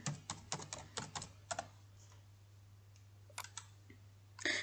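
Bursts of clicks from keys typed on a computer keyboard, quick and fairly quiet, with pauses between short runs and a louder cluster at the end.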